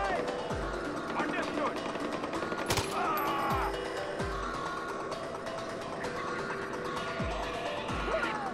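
Far Cry 4 battle gunfire, a dense ongoing exchange of shots and blasts with sharp cracks and low thumps recurring every second or two, over constant game noise and a talking voice.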